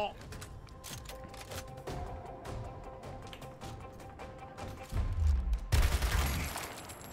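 Gunfire in the video game Gears Tactics sounds as scattered bursts and volleys, mixed with game effects and a louder stretch near the end, while someone talks over it.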